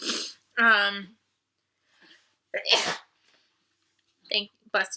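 A single sharp sneeze breaks a quiet room, followed by a few short, soft vocal sounds and brief murmurs.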